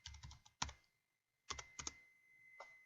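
Keys clack on a computer keyboard in two short clusters of a few presses each, separated by a near-silent gap, close and quiet.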